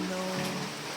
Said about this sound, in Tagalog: Yan, sobrang lakas ng ulan tol.